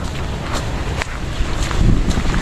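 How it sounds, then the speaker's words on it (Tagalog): Strong typhoon wind over a vegetable farm plot, heard as a steady close roar of rushing gusts buffeting the microphone with no letup across the whole stretch. "Lakas sa hangin mga buddy, galing dito yung hangin"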